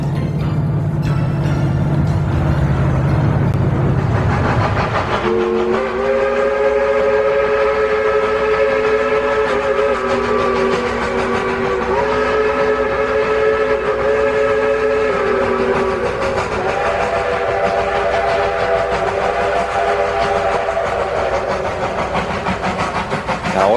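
Diesel locomotives coming out of a tunnel: a low rumbling engine drone at first, then a loud, steady multi-tone horn blast that holds for several seconds, shifts, and sounds again, close and prominent.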